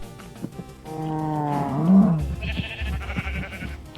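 A Minecraft sheep bleats in a long, wavering cry that swells and then fades, followed by softer game noises and rustling. There is no talking.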